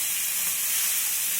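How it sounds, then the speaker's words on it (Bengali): Pieces of bhola fish fry in hot oil for a spicy fish curry, a short, even hissing sizzle close by with no talking. "বাকি মাছগুলোকে এখন আমি ভেজে নেব।"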